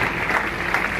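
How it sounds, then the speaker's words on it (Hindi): Audience at a recognition event claps for Anamika, an even, continuous patter of many hands heard at moderate level throughout, without speech over it. "अनामिका, जोरदार ताली होना चाहिए।"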